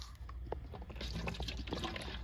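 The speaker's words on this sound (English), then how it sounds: "I'm gonna pour it in this bucket." Water from a bottle pours into a bucket at a makeshift wash station, giving a steady, faint splashing trickle that runs continuously with no voices.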